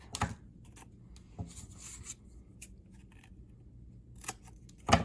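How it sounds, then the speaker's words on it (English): Scissor tip snips paper pieces for a groundhog collage craft, a few sharp isolated clicks spaced unevenly across a quiet background, close and distinct. "we're going to use just the tip and very carefully snip, snip, snip,"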